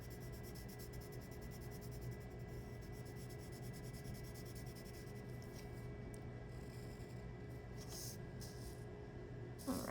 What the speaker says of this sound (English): So I'm pressing a little bit harder on my pencil and creating a medium value.